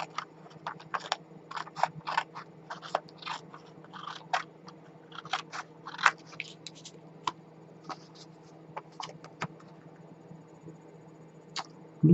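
Scissors cutting through decorated paper for an art journal page, making a run of short crisp snips and crunches at close range, unevenly spaced over a steady low background hum.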